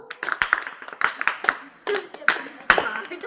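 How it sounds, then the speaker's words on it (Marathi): A group doing the scout and guide rhythmic clap, several sharp bursts of hand clapping in a patterned sequence with brief pauses, close and clear, with voices chanting between the claps. "आता आपण स्काउट गाईडच्या टाळ्या वाजवू, बरोबर. स्काउट गाईड क्लॅप गो."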